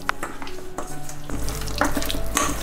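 Pork ribs with garlic slices, salt, pepper, peanut oil and corn starch are mixed by hand, a close, wet squelching and rustling that grows louder partway through, with no talking.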